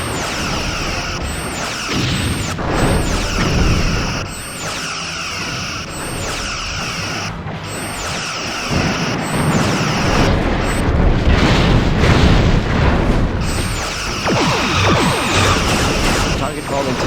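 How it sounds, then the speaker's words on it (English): Torpedo volleys slam into a starship during Star Trek Bridge Commander combat, producing repeated heavy booms and crashing impacts over dense sci-fi battle noise, with bridge crew voices speaking throughout. "Another volley of torpedoes incoming."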